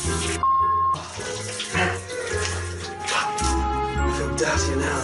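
Water runs from a shower in a freezing, stained hotel bathroom, a steady loud hiss and splash that shifts as the flow changes, with someone speaking briefly over it.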